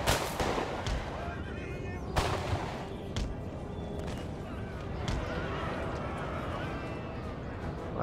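Musket volleys crackle in overlapping bursts in Napoleon: Total War, dense and loud, with a voice talking over the steady rumble of gunfire.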